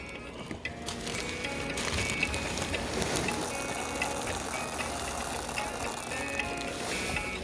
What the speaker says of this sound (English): it might help too to stir these stones up just a hair